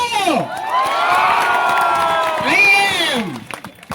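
An audience at a live Gujarati comedy show in Deesa cheers loudly, with rising whoops and shouts over clapping in two strong bursts before fading out.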